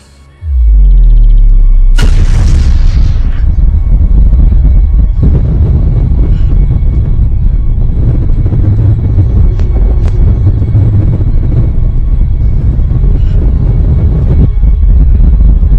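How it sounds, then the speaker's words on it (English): A massive explosion erupts with a sudden sharp blast, then a loud, sustained deep rumble that roars on for many seconds without any voices. "I'll show you an explosion"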